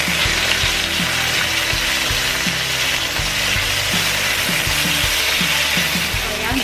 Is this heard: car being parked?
no